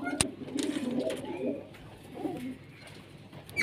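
Pigeons coo softly at close range in a loft, several low, rounded calls in the first half, with a sharp knock and faint background noise.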